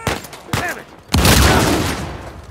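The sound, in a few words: gunfire in video game Uncharted 4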